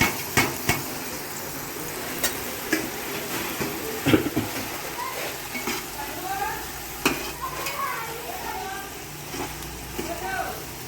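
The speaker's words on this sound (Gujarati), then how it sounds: "ગરમ થઈ જાય પછી 1 કિલો અંદર લસણ નાખી દેવાનું, લીલું લસણ" A kilo of green garlic sizzles in a litre of hot oil in a large pot, with a steady loud crackle and sharp metallic clanks from stirring throughout.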